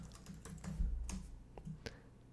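Quick typing on a computer keyboard, a close, faint run of light key clicks spread over a couple of seconds with no talking.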